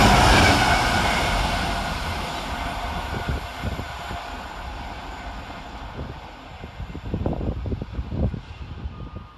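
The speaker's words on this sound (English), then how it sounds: "Next through the station is 66-170, working OF35 from Arpley Sidings to Seaforth CL MDHC" A Class 66 diesel freight locomotive hauls a train through St Helens Junction station, a broad rumble fading at first, then clattering wheel beats and rail knocks rising toward the end, heard from the platform.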